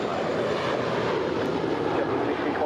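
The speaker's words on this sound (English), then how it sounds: "That is the JetBlue Airways Airbus A320-231, that is flight 1624, taking off for a flight to JFK, New York." JetBlue Airways Airbus A320-231 taking off, a steady broadband engine roar that holds at an even level throughout with no talk over it.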